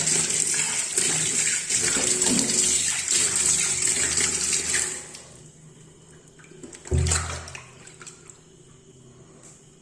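Tap water runs and splashes into a freshly cleaned kitchen sink and pipe, a loud steady gush for about five seconds, then quieter trickling with a brief splash near the seventh second.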